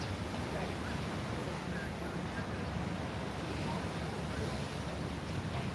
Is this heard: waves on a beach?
yes